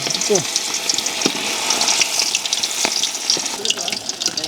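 Fish frying in hot oil in a village-style kitchen, a steady close crackling sizzle with sharp pops and spits throughout, no voices over it.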